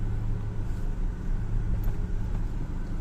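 A car rumbles steadily as it drives down into the underground parking of a Madurai cinema, a continuous low engine and road noise without talk.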